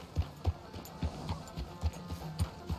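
Horse hooves clip-clop at a steady walking pace in Red Dead Redemption 2, a regular series of muffled thuds, close and moderately loud with no talk.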